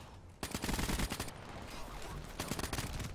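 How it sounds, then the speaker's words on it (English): Rapid automatic gunfire in a first-person shooter video game, loud bursts of dense shots in two clusters separated by a brief lull, no voice. "Damn, I missed my shots."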